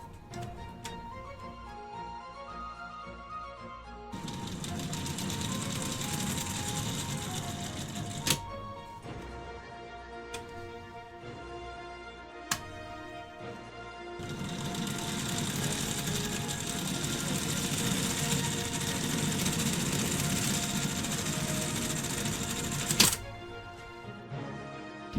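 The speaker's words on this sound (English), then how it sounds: "There's all the gears turning." Wooden gears turning in a Wood Trick mechanical windmill puzzle, a close rattling, ticking clatter that runs in two long spells with quieter clicking gaps and a few sharp knocks.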